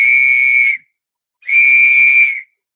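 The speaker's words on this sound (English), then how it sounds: "Okay, and old-fashioned police whistle." An old-fashioned police whistle gives two loud, shrill blasts, each under a second long, with a short silent gap between them and no talking.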